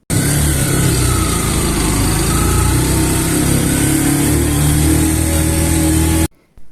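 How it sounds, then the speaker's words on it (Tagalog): A tricycle engine straining up a steep hill, a loud, continuous labouring drone with a steady buzzing tone close by, cutting off abruptly near the end. "Medyo hirap yung tricycle kasi talagang mataas nga naman tong Ermita."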